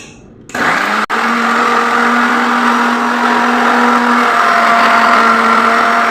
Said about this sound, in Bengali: এটা আমি আগে ব্লেন্ডার করে নিয়ে যাব